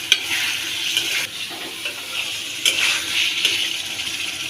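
Pigeon meat sautéing in a pan, a steady dense hiss of frying with a few sharper crackles and scraping stirs, close and continuous throughout.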